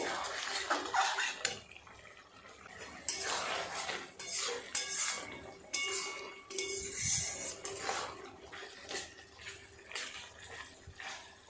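Mutton keema and potatoes are stirred in a pan as it dries, with a metal spatula scraping and clinking repeatedly at a steady, moderate pace under a soft background hiss.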